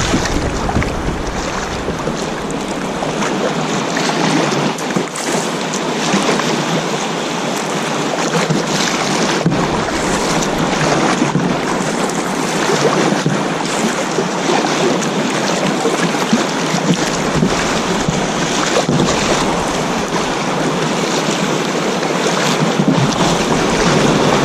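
Sea waves churning around a small boat near Engetsu Island, a loud continuous rush of water and surf with heavy wind buffeting the microphone throughout, no talking.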